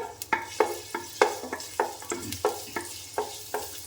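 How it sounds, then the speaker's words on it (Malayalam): Chopped garlic sizzling in a hot pan for chicken fried rice, with about a dozen evenly spaced scraping stirs over a steady frying hiss. "അതിലേക്ക് നമുക്ക് ചെറുതാക്കി നുറുക്കിയ വെളുത്തുള്ളി രണ്ട് അല്ലി വെളുത്തുള്ളിയാണ് ഞാൻ എടുത്തത് വെളുത്തുള്ളി ഒന്ന് ചേർക്കാം"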